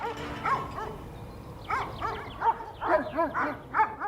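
A large livestock guardian dog protecting its flock barks repeatedly in uneven bursts, loud and fairly close, with a few yelping, whining notes between the barks.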